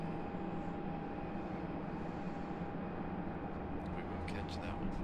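Airliner back-taxiing on the runway at Raleigh-Durham International Airport, a steady distant jet engine roar with a faint whine, continuous and unchanging throughout.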